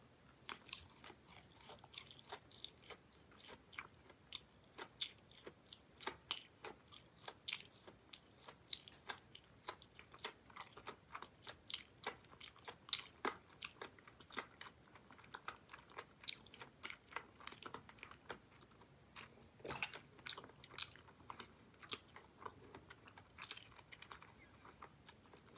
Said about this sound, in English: See if you can hear the crunching of the sugar, little sugar bits on the outer shell of this worm.